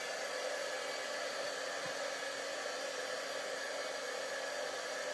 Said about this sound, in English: I'm just going to turn right behind me and heat emboss this.